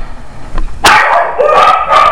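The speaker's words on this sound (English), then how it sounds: "oh, and there's my dogs." Pet dogs barking at home, a quick run of loud, close barks breaking in after a short quiet start and carrying on to the end.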